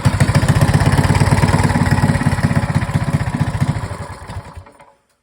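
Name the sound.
small engine running to warm up after choke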